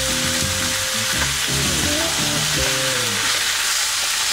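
Red snapper sizzles steadily in a hot pan after being flipped, a loud continuous frying hiss with crackling bursts throughout, no voices.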